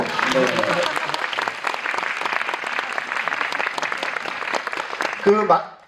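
Audience applause after a special guest talk at a Korean film screening, a dense sustained roar of many hands clapping that fades near the end, with speech briefly heard at the start and close.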